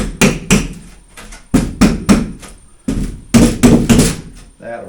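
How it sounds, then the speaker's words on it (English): A series of sharp metallic taps and knocks from a ratchet hammer, close by, some in quick pairs and clusters with short pauses between them, with no talking. "Hey look, a ratchet hammer."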